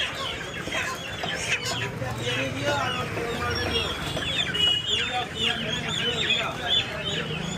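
Many chickens cluck and squawk continuously at a crowded poultry stall in Hongkong Market, Siliguri, with voices murmuring in the background.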